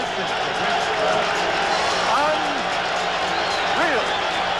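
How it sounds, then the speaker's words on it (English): Boxing arena crowd at Leonard versus Duran in 1980 giving a loud, continuous ovation, thick cheering and whistling filling the space, with scattered shouts and whoops rising above the steady roar. "What an ovation! Listen to this crowd."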